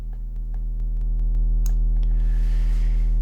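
A steady, loud low sine-wave tone, driven through the Airwindows SquareRoot plugin, hums continuously with buzzy harmonics, occasional clicks, and a hiss creeping in toward the end.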